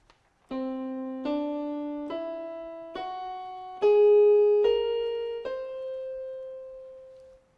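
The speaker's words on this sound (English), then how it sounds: "While the whole tone scale sounds like this." A whole tone scale from C climbs note by note in seven steady, ringing tones, each held about a second and the last one left to fade, with no voices.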